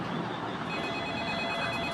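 Telephone ringing in a Roblox horror game, a steady electronic ring filling the short stretch without pause, with no voices over it.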